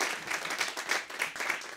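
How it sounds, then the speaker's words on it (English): A comedy club audience applauds a comedian with steady, dense clapping throughout, moderately loud and unbroken, without any voices on top. "Another round of applause for Ben Miller"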